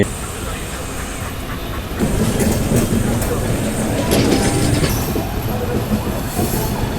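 Onboard the Pallavan Express near Villupuram Junction, the train rumbles along with wheel clatter and squeal, growing louder after a couple of seconds, with faint voices mixed in.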